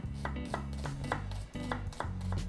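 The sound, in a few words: knife chopping an onion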